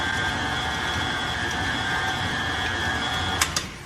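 An electric mixer whisks strawberry cream pie filling in a bowl, giving a steady, close motor whir with a high tonal hum that runs throughout, ending with two brief sharp clicks.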